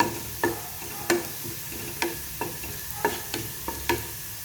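Corned beef with potato frying in a pan, a soft sizzle under a series of sharp, irregular scrapes and taps as it is stirred, close and fairly quiet.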